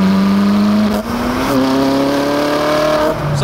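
A Ferrari 458 Italia's engine and exhaust while driving: a loud, close, tonal drone that climbs in pitch through the revs, dips briefly at gear changes, then rises again, with no talking over it.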